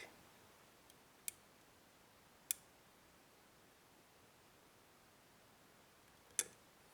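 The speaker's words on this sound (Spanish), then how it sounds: "Ahí está, he hecho un clic." A few sharp, isolated metallic clicks from a lock pick in a Kaba 11-pin lock, spaced irregularly over a quiet background, like small parts snapping into place up close.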